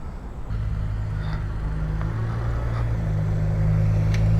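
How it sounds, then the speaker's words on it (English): A passing car on a street, a steady low engine rumble that grows slightly louder and fuller toward the end, with no talk. "That's a cool car."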